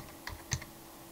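A few quiet computer keyboard keystrokes, two or three soft clicks in about a second, with near silence around them.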